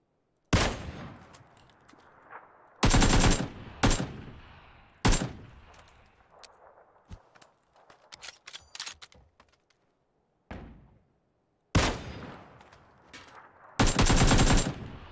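Loud bursts of gunfire ring out in a shooting video game, including sustained automatic volleys and single cracks at irregular intervals, with quieter clatter and short silences between the shots.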